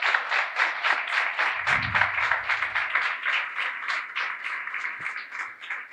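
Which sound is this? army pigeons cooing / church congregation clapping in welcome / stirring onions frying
church congregation clapping in welcome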